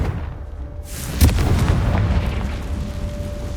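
Confringo spell explosion in Hogwarts Legacy, a sudden loud close boom that rolls into a rumbling, crackling decay lasting a couple of seconds before settling into low ambience.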